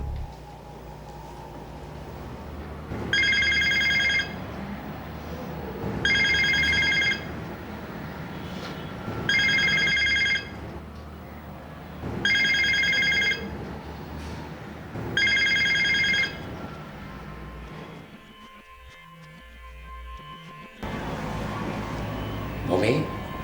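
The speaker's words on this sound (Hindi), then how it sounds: "फोन सुनते क्यों नहीं हो?" A telephone bell rings in five evenly spaced bursts, each about a second long and bright, over steady background noise and voices talking in a drama scene, then stops.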